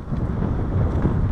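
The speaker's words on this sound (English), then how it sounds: "It's a windy day, a cold day." Wind buffets the microphone with a continuous low, rumbling roar, steady and loud, with no voices, on a cold day at the edge of Lake Superior.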